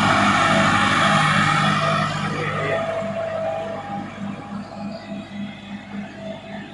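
Massey Ferguson 375 tractor works a muddy rice field, its engine giving a loud, steady drone with a rhythmic low throb and splashing wash of mud and water that eases slightly over time.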